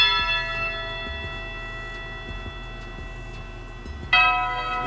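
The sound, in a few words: tubular bells intro of a trap beat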